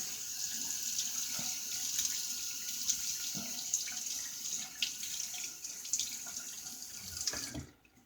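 Water runs steadily from a tap into a sink during a wet shave, a close, even hiss with small splashes, before it cuts off abruptly at the end.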